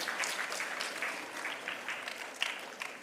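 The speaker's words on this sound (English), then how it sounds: "So you deserve definitely a good clap." Audience applause at a Gonzaga Day house celebration, a steady wash of many hands clapping from a crowd, moderately distant, with a few sharper claps near the end.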